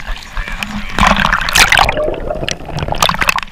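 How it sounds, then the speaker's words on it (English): Heavy waves surge and break against a rocky shore on Kauai, Hawaii, with sloshing and splashing water swelling to a loud peak midway, then rolling on in irregular bursts close by. "if you look here at the waves. It's coming in pretty heavy, and there are nothing but rocks down here"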